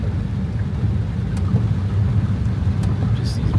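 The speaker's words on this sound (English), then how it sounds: "Got the fuel truck blasting through" A fuel truck rumbles across a bridge through standing water, with a steady, loud low drone and a hiss of spray that carries on without a break.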